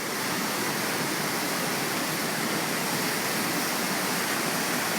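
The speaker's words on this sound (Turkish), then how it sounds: "İşte falezlerden dökülen Güden Şelalesi'ndeyiz." The Düden waterfall, pouring off cliffs, roars nearby as a dense, unbroken rush of falling water, constant in loudness throughout.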